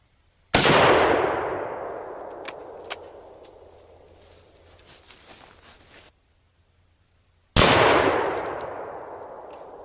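Two loud, sharp 7.62x54R rifle shots fired into test blocks outdoors, several seconds apart, each with a long decaying echo and faint clatter in between.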